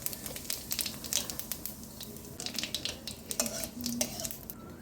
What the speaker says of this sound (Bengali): তারপরে একটু এই জিরে ফোড়ন দিয়ে দিলাম।